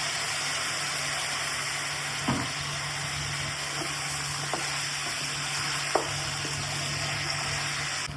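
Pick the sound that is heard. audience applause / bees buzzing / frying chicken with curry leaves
frying chicken with curry leaves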